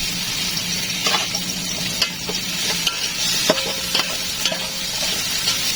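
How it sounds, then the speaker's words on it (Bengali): Boiled carrots and capsicum fry in oil with bay leaf, cinnamon, cardamom and cloves, a steady close sizzle punctuated by repeated spatula scrapes and taps against the pan. "এরপর দিয়ে দেবো আমার সিদ্ধ করা গাজর আর ক্যাপসিকামগুলো এগুলো ভালো করে ভাজে নেব"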